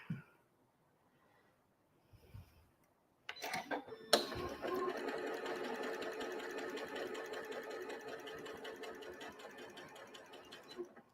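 A sewing machine runs along a quilt block seam for a weathervane star block, starting after a couple of soft handling clicks and then humming in a continuous, fairly close, even whir of rapid stitching until the end.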